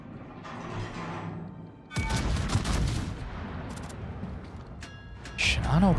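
Heavy naval gun salvo in World of Warships: a sudden loud, broadband boom cuts in, then rumbling gunfire rolls on with later sharp reports, while a player talks over the battle.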